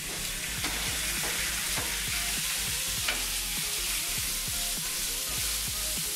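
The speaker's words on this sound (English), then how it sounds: "Just start frying up our chicken here." Chicken sizzles steadily in a hot pan, a constant crackling hiss with scattered pops and the occasional scrape of stirring.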